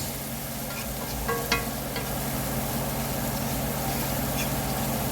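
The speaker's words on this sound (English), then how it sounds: "to deglaze that pan a little bit so that that garlic doesn't stick" Onions and garlic sizzling in a pan deglazed with a splash of chicken broth, a steady close hiss with a brief stir or clink partway through.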